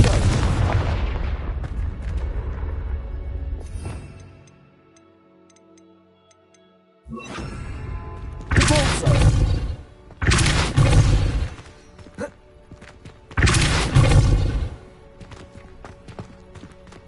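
Confringo fire spell blasts in Hogwarts Legacy, a loud booming burst at the start that fades out, followed by a series of sharp explosive impacts with crackling tails spaced a second or two apart.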